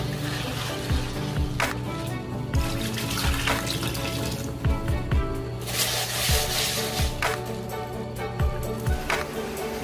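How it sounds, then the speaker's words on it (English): Mung beans being washed by hand in a bowl of water, with steady splashing and sloshing throughout, plus running-tap noise and occasional clinks of beans against the bowl, close and fairly loud. "Wash properly until it separates the dirt and dead mung beans."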